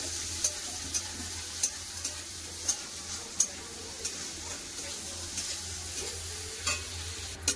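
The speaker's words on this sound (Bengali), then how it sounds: "কেটে রাখা পেঁয়াজ, কালো জিরে পেঁয়াজ ভালো করে ভেজে নেব।" Chopped onions and black cumin (kalo jeere) fry in a pan, giving a steady low sizzle with soft periodic clicks and scrapes from stirring, close and fairly quiet throughout.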